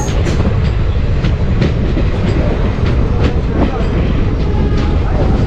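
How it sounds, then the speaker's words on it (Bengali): A passenger train pulls out of New Mal Junction on the Malda to Alipurduar line, a loud, close, unbroken rumble with rhythmic clickety-clack of wheels on track. "এই দেখো ট্রেন গেল নিউ মাল জংশন থেকে"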